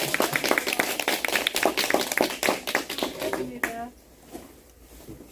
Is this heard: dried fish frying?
no